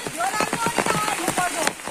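Heavy rain patters on surfaces during a village Gaura-Maheshwar puja in the hills of Uttarakhand, with a steady close downpour while people talk over it.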